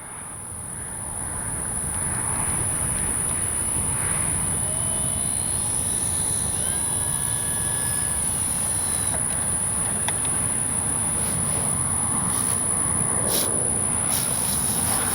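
An Avios Kobuz RC power glider comes in to land with its electric motor running, a steady thin high whine over constant outdoor wind and hiss, with faint rising tones drifting through the middle; no one speaks.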